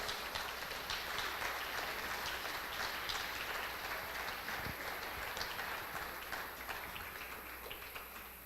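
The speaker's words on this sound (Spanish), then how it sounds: "Tú podrás darle un aplauso a nuestro Señor" Congregation applauding in a church service, a steady, broad wash of many hands clapping that holds evenly throughout, with no speech.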